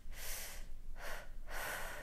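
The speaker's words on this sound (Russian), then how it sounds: "помогает дыхание, которое я называю просто дыханием для переходного периода" A woman demonstrates a slow breathing technique for the transition period of labor: three close, audible breaths, each a soft rushing exhale, evenly spaced with no talking.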